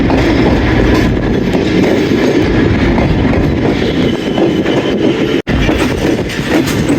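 The 101 Up railcar train from Lahore to Rawalpindi heard from on board: a loud, continuous roar of wheels and carriage with steady rattling and clatter, close and unbroken throughout.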